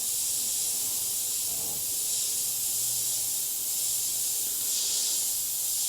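An airbrush sprays paint in a continuous, steady airy hiss close up, darkening shading around a freehand painted eye, with no talking.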